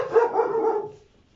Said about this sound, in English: You can listen to the dogs barking while I put water into my cup.